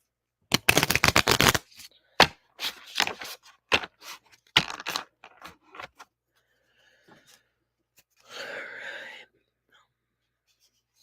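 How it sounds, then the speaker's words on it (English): A deck of oracle cards is riffled and shuffled for a card reading, with a rapid fluttering burst and then several softer slaps and taps, followed by quiet rustling and a short whispery hiss. "So I'm just gonna pull one of these oracle cards for you, Lynn Piccolo."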